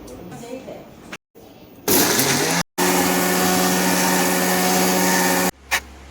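A mixer grinder grinds Chennai-style chutney in loud whirring bursts, with short stops between runs and one long steady stretch, while people talk nearby.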